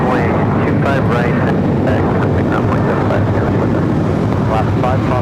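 A Boeing 747 jet at LAX, a loud, steady roar of engines filling the whole clip, close and unbroken, with a voice talking faintly underneath.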